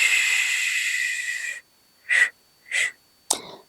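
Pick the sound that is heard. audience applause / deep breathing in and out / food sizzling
deep breathing in and out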